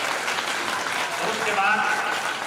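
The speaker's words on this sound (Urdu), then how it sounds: "تمام مہمانوں کے لیے ایک مرتبہ زوردار تالیوں کے ساتھ استقبال کر دیں" Steady, dense applause from a crowd welcoming guests at a school Independence Day event, continuous clapping throughout with faint voices mixed in.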